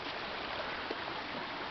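Steady broadband rushing of flowing water, like a stream running over rocks, continuous and fairly close with no pauses.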